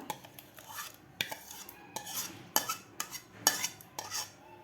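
A metal spoon mixes custard apple pulp into cooled milk with cardamom, producing repeated clinks and scraping strokes against the vessel in an uneven rhythm, close and clear, with no voices.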